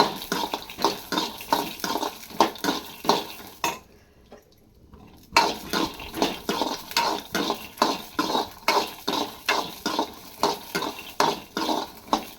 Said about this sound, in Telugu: ఒకటి పచ్చిమిర్చి, కొబ్బరి, పొట్టి కొబ్బరి అయితే వేసేసి అవి కూడా ఫ్రై చేసేస్తున్నాను